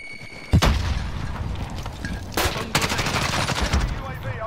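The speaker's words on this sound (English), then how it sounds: "I'm throwing grenade!" Grenade blasts and gunfire crack out in Call of Duty Modern Warfare: a sharp explosion, then another heavy bang followed by rapid bursts of shots, loud and close, with a voice talking amid the fighting.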